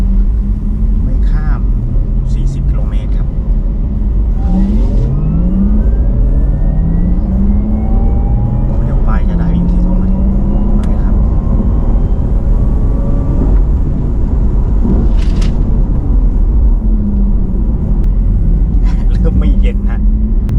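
A Porsche Taycan driven fast on a race track at a track day, heard as a loud, continuous rushing drone with rising and falling whine sweeps as it speeds up and slows.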